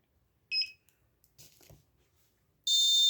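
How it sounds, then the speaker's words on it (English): A loud, steady high-pitched alarm buzzer on an RFID access control system starts abruptly near the end after two short beeps and a faint clatter, continuing without pause after a wrong card is used. "Alarm on."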